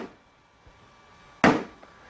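A single sharp hammer strike, from hail dent repair work, lands close and loud after a near-silent stretch, with a faint softer tap just before it.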